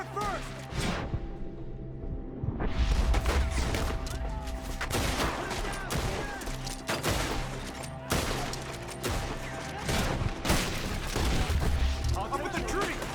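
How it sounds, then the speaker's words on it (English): Gunfire in a shootout in the video game Red Dead Redemption 2, with loud, repeated rifle and pistol shots in irregular bursts, some cracking close and some distant, under excited shouting voices. "Shoot the ones up there first!"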